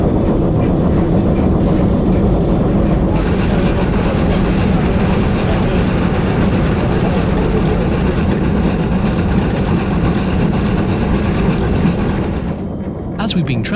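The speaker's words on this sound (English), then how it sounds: "capture the locomotive speeding up, slowing down, running at speed, running slowly, braking" A GWR Manor class steam locomotive running at speed, heard as a continuous loud rumbling roar with rhythmic clatter from the rails, steady throughout with a brief hiss near the end.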